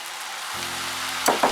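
Shrimp dropped into a hot pan with noodles for Chinese stir-fried chow mien, a steady sizzle of frying with a couple of brief stirring scrapes near the end.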